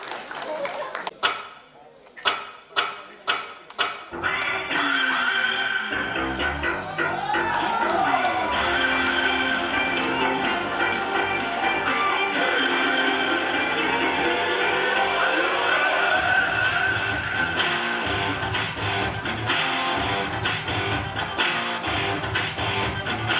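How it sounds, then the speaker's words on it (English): Audience at a dance performance breaks into a few sharp claps, then swells into sustained loud applause and cheering with crowd voices, steady rhythmic clapping running on for over fifteen seconds. "let's have a huge round of applause for him"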